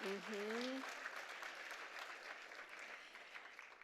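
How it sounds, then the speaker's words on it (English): Applause from a gala audience at an arts education anniversary event, starting loud and gradually thinning out, with a voice briefly heard at the very start. "We need to clap for that."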